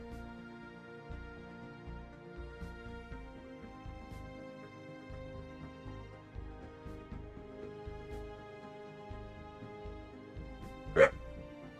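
A dog barks in short, repeated low woofs and yips across the stretch, fairly close but soft, over a quiet indoor room tone, with one sharper louder bark near the end.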